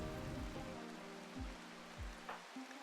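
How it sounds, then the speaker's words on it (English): Rain falls in the RimWorld colony game, a soft steady hiss of drops spreading evenly through the short stretch, with faint low tones sliding underneath. "A little bit of rain to finally put out the fires caused by the boomalopes."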